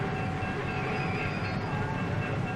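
A passenger train rumbles steadily with dense, continuous rail and wheel noise and faint squeals, loud and close with no voices.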